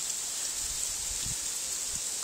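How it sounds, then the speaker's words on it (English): Hail falling outdoors during a hailstorm with sun and rainbow, a dense, steady hiss of pattering stones on surfaces, continuous and fairly quiet, with no voices. "Now, we're in the middle of a... hailstorm. Crazy hailstorm."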